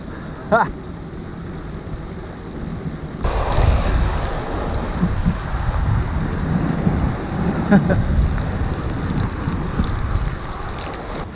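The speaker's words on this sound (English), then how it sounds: "Still raining, pretty biblical now." A dense, steady hiss of heavy rain that grows louder partway through, with wind buffeting and a voice speaking faintly now and then.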